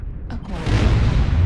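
Mech weapons fire in the MechWarrior Online video game: a short burst of sharp cracks leads into a heavy, sustained booming roar that fills the rest of the moment.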